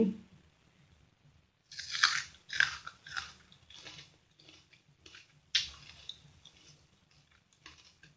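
Close biting and crunchy chewing of a fresh, crisp, slightly astringent date fruit, several distinct bites followed by softer chewing.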